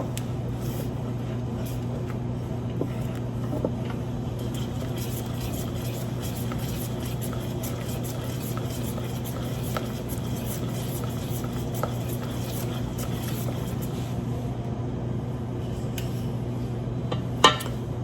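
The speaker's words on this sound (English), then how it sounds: "I'm going to continue stirring because again I want everything coming together nicely" A spoon stirs a boiling pecan coconut praline mixture in a pot, making faint, sparse scrapes and light clinks under a steady low kitchen hum throughout.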